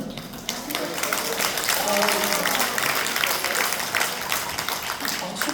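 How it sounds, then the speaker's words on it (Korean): An audience at a pastors' seminar lecture bursts into sustained applause, a dense wash of many hands clapping together at steady volume, with voices audible beneath it. "박수까지 쳐주시니까 제가 몸둘 바를 모르겠어요."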